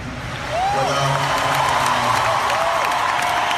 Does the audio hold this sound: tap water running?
no